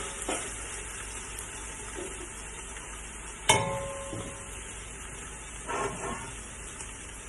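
Pepper and garlic frying in a pot for Liberian ground pea soup, a steady low sizzle with a few louder stirring clanks and spatters, close by and with no talk.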